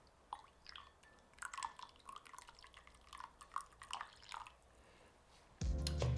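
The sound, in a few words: adding remaining water into Aeropress coffee brew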